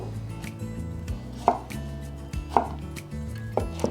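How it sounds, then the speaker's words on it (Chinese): A knife chops fresh tomato on a cutting board in quick, steady strokes, with a few sharper knocks standing out, close and clear with no talking. "把番茄切碎"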